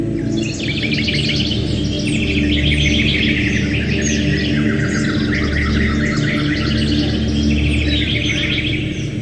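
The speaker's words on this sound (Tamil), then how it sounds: "பறவைகள் ஒலித்தன." Dense, loud bird chirping and twittering from many birds fills the air without pause during a live stage performance at a cultural show, with a low steady hum beneath the calls.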